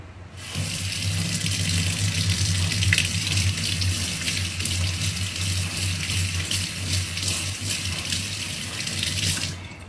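Running water pours steadily from a tap, rinsing premium gel tint off a hand in a continuous, close gushing stream with no talking.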